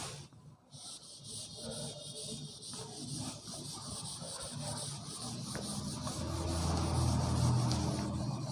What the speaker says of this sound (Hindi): इसको पहले रब करते हैं, मिटाते हैं